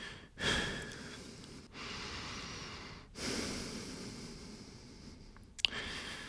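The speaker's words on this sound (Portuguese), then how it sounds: "Uma respiração lenta e rítmica começou a escapar da coisa ali de baixo." Slow, rhythmic breathing from an unseen creature: three or four long, hushed breaths at steady intervals, each a soft airy rush with a faint snort, quiet and close, with no voices.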